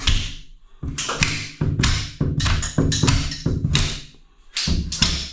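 Plastic tile wedges knocked out of a freshly tiled wall, a series of sharp close taps and thuds in uneven bursts with short pauses between, no talking.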